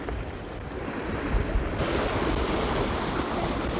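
Wind and sea waves breaking at the shore at dawn, a steady broadband wash of surf with gusty wind noise on the microphone, continuous and fairly close.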